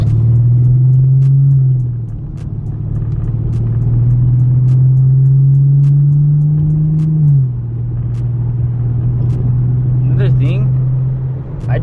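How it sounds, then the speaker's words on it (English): An automatic transmission shifting in an older car, a predecessor of the Infiniti Q50, while driving: a steady low engine drone whose pitch climbs and then drops smoothly at two gear changes, with faint ticking over the top. "Just hear the trans, bro. It's just like butter."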